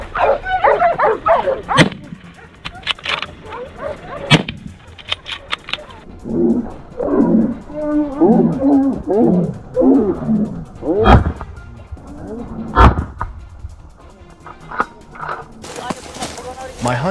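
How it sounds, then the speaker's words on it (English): A hunting dog barks repeatedly and excitedly during a wild boar hunt, loud and close, with someone narrating over it. "My hunting dog suddenly started barking uncontrollably and darted forward."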